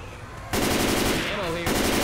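Rifle gunfire in the video game Left 4 Dead 2: a fast, loud burst of automatic shots with a short pause, then more firing, close and dominant.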